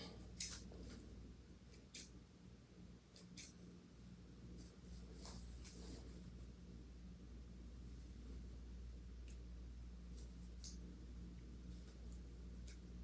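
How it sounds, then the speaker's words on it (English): Scissors snip the wispy ends of pre-curled ocean wave synthetic hair, faint crisp cuts scattered irregularly over a quiet room hum, up close and with no talking. "Now I'm not taking length off, I'm just cutting those little wispy ends."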